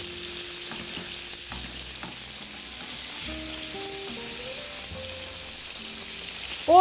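Rabbit pieces searing in a pan for a rabbit stew, a steady close sizzle with faint clinks and stirring, with no speech.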